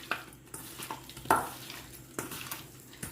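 Chicken kabab marinade being mixed in a bowl, a series of soft wet squelches and light utensil clicks coming in irregular bursts, close and fairly quiet with no talking.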